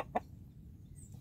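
A single short cluck from one of two brown-egg laying hens in a backyard coop, brief and moderately close against a quiet low background hum.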